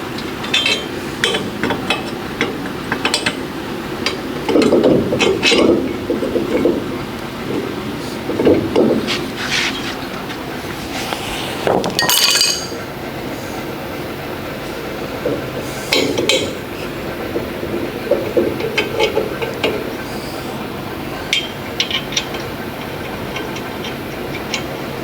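Ratchet clicks while tightening a body mount on a 1970 El Camino, repeated bursts of close, sharp ticking with short pauses, over a steady shop background and a few metallic knocks.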